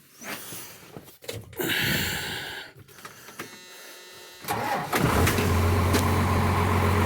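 A 1990 rollback truck's engine cranks briefly, catches and fires up, then settles into a loud steady idle close by.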